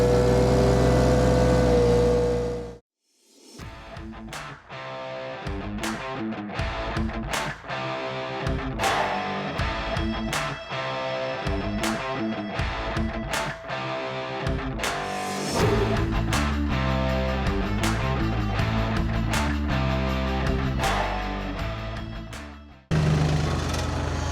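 A VMENG 25HP mulcher drum drive spins up: a loud mechanical drone cuts out abruptly, then a whine climbs back in pitch, punctuated by repeated sharp knocks and clanks, before a brief pause and a return to full roar.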